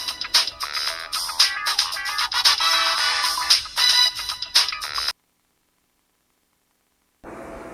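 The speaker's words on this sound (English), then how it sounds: "Esther, your phone." A phone ringtone plays loudly in a Jamaican drama, a busy electronic melody for about five seconds that cuts off abruptly into silence before faint background sound returns.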